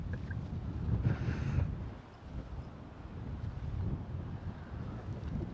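Wind gusting across an open golf course, a steady low rumbling buffet against the microphone that swells and eases, with no talking.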